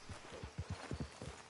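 Horse hooves clip-clopping in a video game, a steady walking rhythm of soft, fairly quiet thuds at close range.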